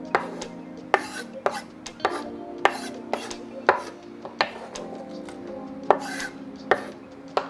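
Ingredients for an ahi poke bowl are chopped with a knife on a board, about a dozen crisp, close thuds in an uneven but steady rhythm, with a low hum underneath and no speech.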